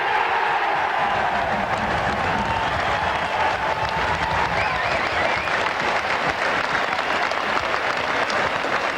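Wigan rugby league home crowd roaring and applauding continuously, a dense, loud wash of clapping and cheering that never lets up as the team presses on the try line.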